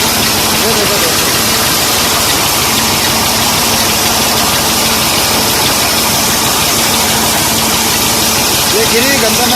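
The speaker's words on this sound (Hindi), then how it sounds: "ये 1986 मॉडल है ट्रैक्टर।" A 1986 Massey 240 tractor engine idles and chugs steadily at close range while harvesting wheat, a constant loud rumble with no pauses.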